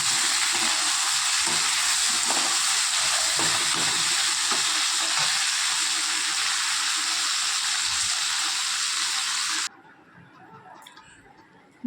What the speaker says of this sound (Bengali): ভেন্ডি আর আলুটা ভাজা করে নেব